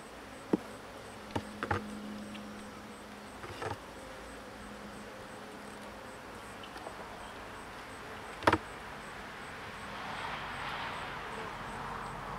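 Honeybees buzz softly around hive frames being handled, a low steady drone with a few nearby passes and faint thumps, quiet and outdoors.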